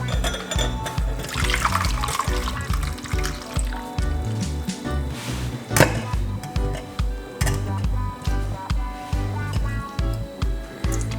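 Liquid being poured off from a pot in a kitchen, with a steady run of splashing and trickling water and a louder slosh partway through, alone without talk.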